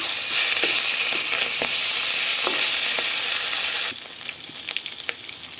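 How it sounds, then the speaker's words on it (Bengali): Tilapia fish frying in hot oil gives a loud, steady broadband sizzle with occasional spatters and pops, dropping to a quieter crackle near the end. "তেলাপিয়া মাছ ভাজি করা হয়ে গেছে"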